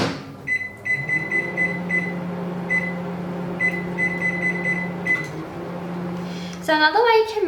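A running microwave oven melting homemade lipstick ingredients, including beetroot, hums steadily with a low drone, while repeated short beeps sound and a voice speaks briefly at the end.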